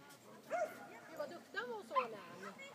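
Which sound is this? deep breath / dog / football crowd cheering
dog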